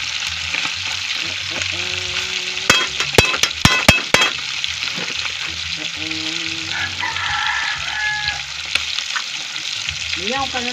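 Food frying in a pan, a loud steady sizzle throughout with a burst of sharp clatter near the middle and faint voices and animal calls in the background.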